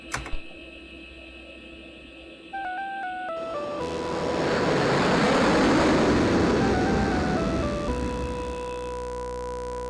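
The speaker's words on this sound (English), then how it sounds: "So we're getting Sound Blaster output" Synthesized game music through a Sound Blaster output on a PicoGUS card, beeping square-wave tones stepping in pitch, then a swelling noisy rush with steady tones over it.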